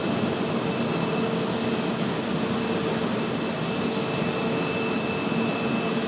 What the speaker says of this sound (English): Aer Lingus coming in 5 right.